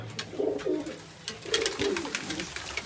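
Pigeons coo softly in a few repeated low phrases, nearby, with faint rustling and background clicks; a large adult female pigeon.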